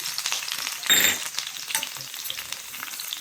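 Garlic, mustard seeds and chilies hit hot oil for a tempering, a sharp sizzling burst near the start that settles into crackling pops and spatters, close by with no voices.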